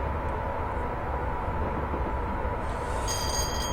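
A Class 86/87 electric locomotive in Train Simulator 2015 rumbles along the line, giving a steady, loud, continuous drone of motor and rolling wheels with no gaps, and a faint high whine comes in near the end.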